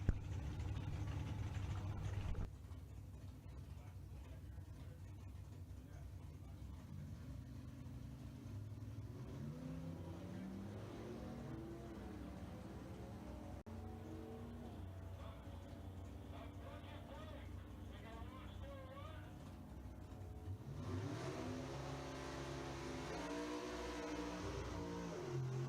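Engines of a 1954 Chevrolet Bel Air and a Chevy II rev and launch at a drag strip, a rising, roaring acceleration that starts near the end after a long stretch of commentary-style talk over a steady engine drone.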